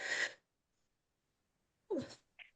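Two sneezes, a short sharp one followed after a pause of silence by a fuller sneeze with a voiced tail, heard close and clear in a quiet room.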